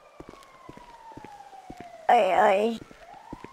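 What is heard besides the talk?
ambulance siren in GTA 5 video game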